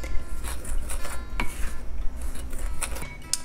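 A spoon stirs cayenne, echinacea and astragalus powders together in a bowl, making soft scraping and occasional faint clinks up close.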